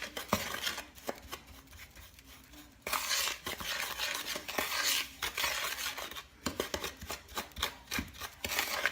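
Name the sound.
stirring wet ingredients into dry batter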